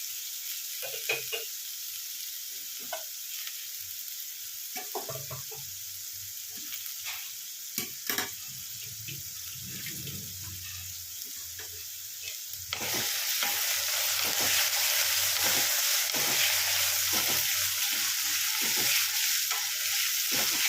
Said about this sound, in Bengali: আগে একটু আলুটা ভালো করে ভেজে নিই